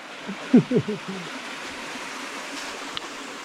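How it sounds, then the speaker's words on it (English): Hidden stream water flows beneath rocks in a rock garden in the Sipsey Wilderness canyon, a steady broadband rush heard continuously throughout, with a few brief voiced sounds near the start. "Well, I don't see the water, but it's sure making a lot of noise under there."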